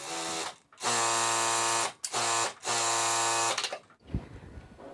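Electric sewing machine stitching red fabric for girls' half pants, three close, loud whirring runs with short stops between them, then a clunk and quieter handling.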